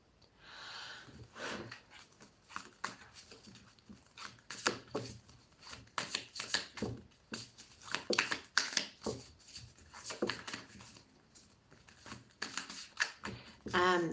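Soft, rapid tarot card shuffling in bursts of riffling and slapping, close by, with quiet talk over parts of it.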